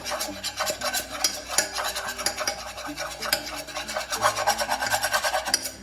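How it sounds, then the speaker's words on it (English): A regular spoon stirs a butter and flour roux in a pan, making a close, continuous rasping scrape in quick uneven strokes, with no voices. "So now I'm just getting a regular spoon. I'm just stirring that up."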